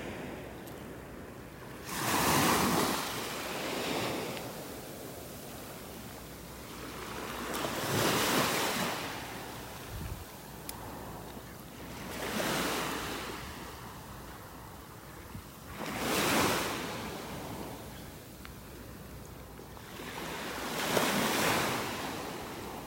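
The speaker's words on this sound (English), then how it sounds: "Got some pretty big waves and high tides." Ocean waves roll onto a beach in North Naples, Florida, during high tide, with large breakers crashing about every five seconds in a steady rhythm over continuous surf and wind rumble.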